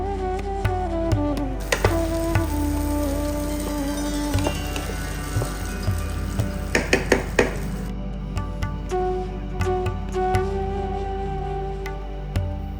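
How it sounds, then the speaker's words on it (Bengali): Cashews and raisins fry in a kadai before Gobindobhog rice is added, soft sizzling under scattered sharp clinks and scrapes of a spoon against the pan. "এরপর কড়াইতে কাজু আর কিশমিশগুলো দিয়ে হালকা লাল হওয়া অবধি একটু ভেজে নেবেন।"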